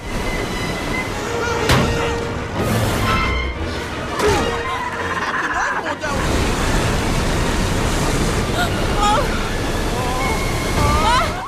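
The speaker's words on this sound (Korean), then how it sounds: "감당할 수 없는 빠른 물살에 배는 점점" Loud, continuous roar of rushing river water close by near a waterfall, churning and turbulent, with voices briefly audible beneath it.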